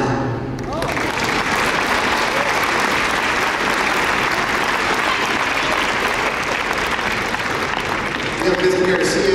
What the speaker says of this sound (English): You can clap.